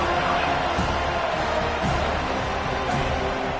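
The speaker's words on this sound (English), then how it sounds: "This crowd rising up, sensing that its defense needs some help." Stadium crowd in the NCAA 25 college football video game, a steady broadband roar of many voices swelling continuously without a break.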